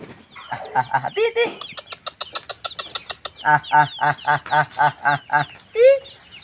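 Free-roaming backyard chickens cluck and squawk close by in hot weather, a rapid run of rhythmic clucks followed by another burst and a drawn-out call, with light talk in between.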